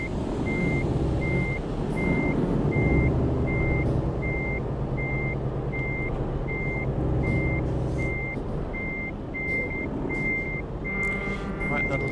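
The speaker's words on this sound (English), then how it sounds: "just to make sure that your beeping's not going off and annoying everybody in the stream" A truck in Euro Truck Simulator 2 reverses during a multiplayer convoy, its backup alarm beeping in an evenly spaced, steady series over a constant loud diesel engine rumble, with a voice talking in the middle.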